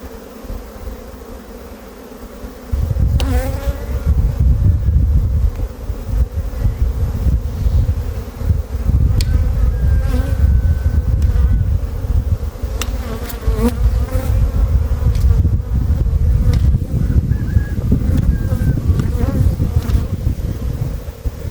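Honeybees buzz in a dense, continuous drone during a spring hive inspection in Ankara, loud and close, with individual bees whining past the microphone now and then over the steady swarm hum.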